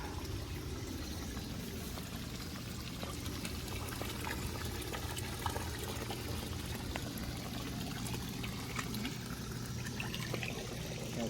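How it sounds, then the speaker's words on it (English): Pond waterfall fed by a pump, running steadily with a continuous splashing, pouring wash of water close by, constant and fairly loud throughout with no voices. "So there's the waterfall."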